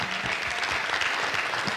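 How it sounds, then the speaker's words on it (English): Sustained applause from a conference audience at an African readers' literacy event, dense overlapping hand claps filling the room at a steady, loud level throughout. "So let us give them a thunderous hand clap."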